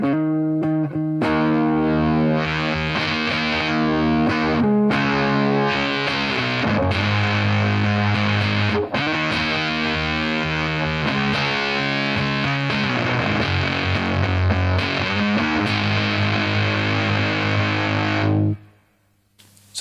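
An electric guitar plays through a Fulltone Soul-Bender distortion pedal, thick sustained fuzzy chords and notes ringing loudly for most of the stretch before cutting off and fading to near silence at the end.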